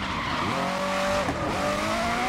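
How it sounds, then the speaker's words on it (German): Race car tires skidding and squealing in the GRID racing game, Group 7 Legend class, a sustained high wail that bends in pitch over a steady engine roar, loud and close throughout. "Aber der rutscht übelst, der Wagen."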